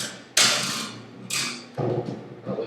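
A guitar tuning peg slips while a string is being tightened, giving several sharp creaking, ratcheting bursts with quieter grinding between them, close and distinct.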